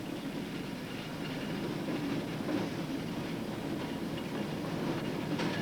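A narrow gauge train rumbles along the rails near Heavitree Gap on the outskirts of Alice Springs, a steady broadband roar of wheels and carriages with no talk.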